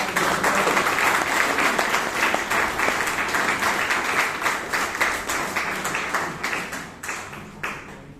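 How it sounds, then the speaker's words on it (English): Audience applause at a Toastmasters club meeting in Bangalore, a steady dense round of clapping from a roomful of people that holds for several seconds and then thins into scattered claps toward the end. "Please give a round of applause."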